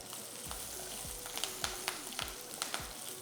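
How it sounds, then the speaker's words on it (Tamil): Cumin seeds and dried red chillies fry in hot oil for a kootu, sizzling steadily up close with a soft background hiss broken by small popping crackles and a few light clinks. "ஒரு 1/4 ஸ்பூன் ஜீரகம், ஒரு 3 காஞ்ச மிளகா போட்டுக்குங்க"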